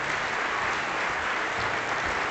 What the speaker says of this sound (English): let's give a round of applause to customer care